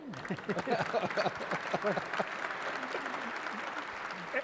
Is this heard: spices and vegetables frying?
no